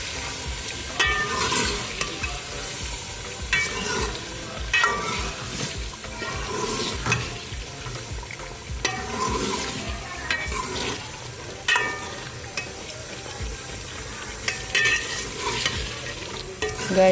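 Finely chopped shimla mirch (capsicum) with potatoes frying in a pan, a steady sizzle broken by repeated scraping stirs of a spoon at a loose, uneven rhythm, close and fairly loud with no voices.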